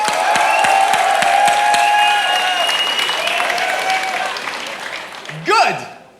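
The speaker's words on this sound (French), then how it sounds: "je demanderais à tout le monde dans la salle de lui donner une bonne main d'applaudissement" An audience at a rap battle event gives loud, dense applause mixed with cheering, fading toward the end before a brief rising electronic sweep.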